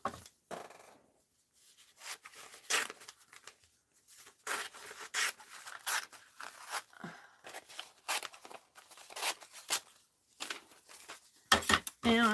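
Scissors cut out a paper craft piece at a mixed-media art journaling table, giving irregular close snips and papery rustles in uneven bursts with short pauses between them.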